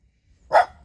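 A dog gives one sharp, fairly quiet bark at its own reflection, alone with no talking.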